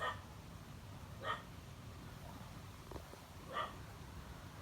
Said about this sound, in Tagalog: May aso boss.